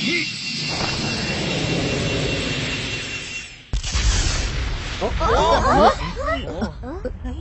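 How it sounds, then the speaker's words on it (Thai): A deep rumbling blast erupts after a sustained roar, followed by agitated voices talking over the fading noise. "มันระเบิดไปแล้ว"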